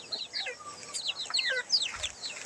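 Chickens on a farm give a steady run of overlapping high clucks and chirps, fairly close, with no talk over them.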